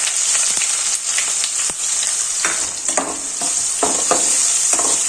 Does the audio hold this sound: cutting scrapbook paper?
no